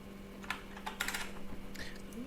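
Quick bursts of typing on a computer keyboard while entering Python code, clicks clustered in short runs and fairly close over a faint steady background hum.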